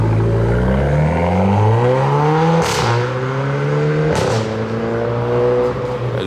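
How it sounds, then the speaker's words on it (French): A car engine revs hard with rising, falling harmonic sweeps and two sharp bursts like gear shifts or pops, loud and close, at a street meet with Mercedes-AMG C63 and BMW M4 burnouts, no talking. "Elle fait un bruit d'A 45 AMG"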